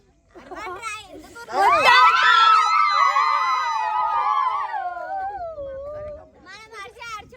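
Friends screaming together at a New Year and birthday party in a forest, a loud sustained group yell that rises sharply, holds for several seconds, then fades into chatter.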